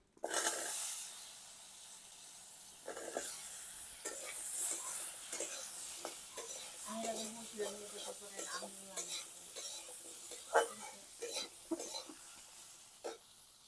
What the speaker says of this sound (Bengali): এবার কেটে রাখা আলুটা দিয়ে দিচ্ছি।